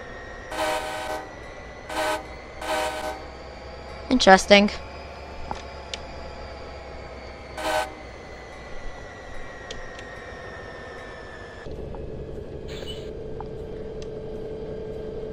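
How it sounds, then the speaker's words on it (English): A diesel locomotive in Train Simulator 2016 on New Jersey Transit's North Jersey Coast Line sounds a series of horn blasts over a steady, ringing bell and engine drone. Someone speaks briefly partway through. "So whenever I put on the whistle, then the bell goes on too, which is annoying."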